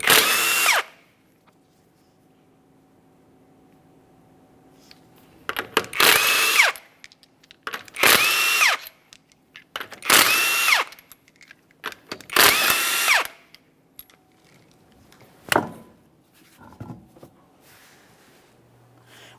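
A power tool removes the 21mm lug nuts from a 2010-2013 Kia Forte Koup wheel in several loud, buzzing bursts of about a second each, separated by quiet pauses, close up and without talk.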